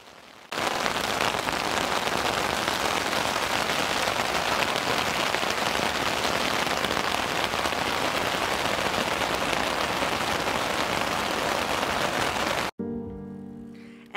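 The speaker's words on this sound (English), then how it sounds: "the rain lasted longer than expected" Steady, dense rain falls across open fields and forest in rural Poland, a loud, even hiss that runs unbroken for about twelve seconds before cutting off abruptly.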